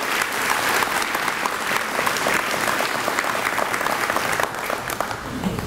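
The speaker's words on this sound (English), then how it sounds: "So a big round of applause" A crowd at a school dedication ceremony applauds steadily, with dense, continuous clapping that holds at an even level for several seconds.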